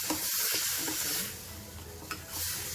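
Eggplant bharta with chili powder and salt is stirred in a hot pan, giving a soft, continuous sizzle with a few light scraping strokes, fairly quiet and close.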